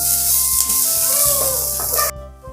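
Mint paste sizzling in a hot pan for pudina pappu, a loud close hiss with stirring scrapes, under a steady electrical hum before it cuts out near the end.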